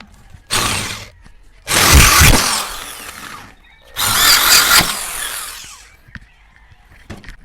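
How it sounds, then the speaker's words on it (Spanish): A power drill bores into a metal gas grill part in three loud bursts with short pauses between them, up close, ending with a few faint clicks. "Ya instalamos nuestra broca en el taladro, ahora sí vamos a barrenar."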